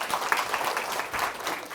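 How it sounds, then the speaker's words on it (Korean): An audience at a cancer lecture applauds to welcome the speaker, a dense burst of many hands clapping close and steady, with no talk. "뜨거운 박수로 강의 진행하겠습니다"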